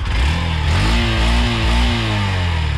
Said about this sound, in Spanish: acelérala ahí para que la gente la escuche